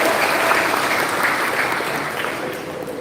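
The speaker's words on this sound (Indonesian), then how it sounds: "Tepuk tangan buat anda semua." Hall full of new university students applauding at a public lecture, dense sustained clapping that slowly fades toward the end.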